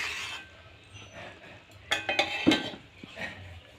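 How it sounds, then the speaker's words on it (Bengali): A metal kadai of freshly cooked ghugni is lifted off the stove, giving a cluster of sharp clanks and scrapes midway through an otherwise quiet kitchen moment. "এবার আমি নামিয়ে নেব কড়াইটাকে।"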